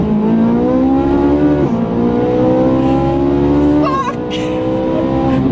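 A Ferrari 458 Italia with a 4.5-litre engine accelerates hard, its loud, rising engine tone sweeping up through the gears with brief dips at the shifts and a short squeal near the end, while a voice exclaims.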